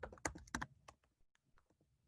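Brisk typing on a computer keyboard while entering a journal name into a PubMed search field: a quick cluster of close, crisp key clicks, then a few lighter, scattered taps in a quiet room.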